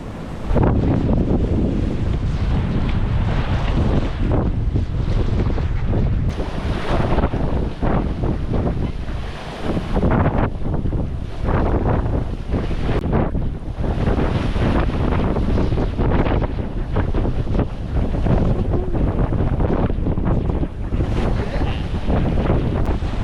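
Strong wind gusting up to 27 knots buffets the microphone on a sailboat in heavy, continuous gusts, with rushing water and sea noise beneath, loud and close throughout.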